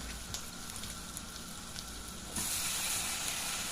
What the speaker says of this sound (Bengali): এই পেঁয়াজের সঙ্গে বেগুনটা ভাজা ভাজা হয়ে যাবে একদম